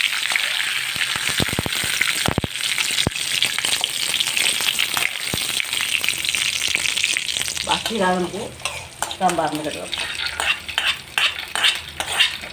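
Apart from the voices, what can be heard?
frying tempering with curry leaves for chutney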